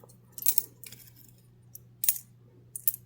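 Coins taken out of a money bowl clink in three short bursts, a few light metallic jingles separated by quiet pauses over a low steady hum.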